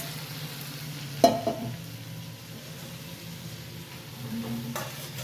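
Spice paste sautés in a pan with a soft, continuous sizzle, opened by a sharp clink of a utensil against the pan and followed by stirring scrapes.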